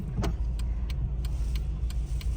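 A tourist car rolls along an Athens street with a steady low engine rumble, close by and moderately loud, as faint ticking sounds repeat over the traffic background.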